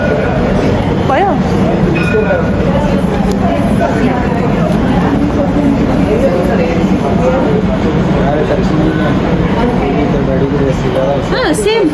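A Dubai tram carries riders toward Atlantis, its cabin giving a loud, steady rumble with rail noise throughout while people talk over it.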